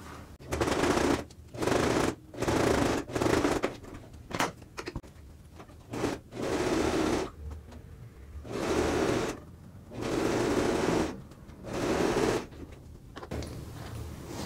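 A sewing machine stitches a fabric card and coin pouch, beginning with a backstitch. It runs in about eight loud, close bursts of rapid whirring stitches, separated by short quiet pauses.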